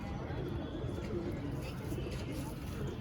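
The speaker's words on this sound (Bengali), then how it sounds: "একটা ফুলশিরা পায়রা, ফুলশিরা গিরেবাজ নর" A male Phulshira Giribaz pigeon cooing in soft, low repeated coos, fairly close, under a steady background noise with people talking nearby.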